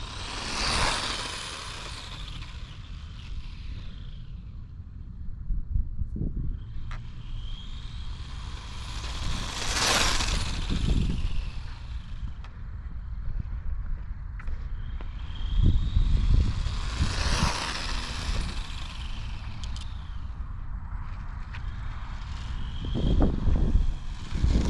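Screaming high-revving whine of an RC McLaren MP4/6 Formula 1 model car making repeated passes, swelling as it nears and fading as it pulls away, with rumble and wind noise between passes and no talking.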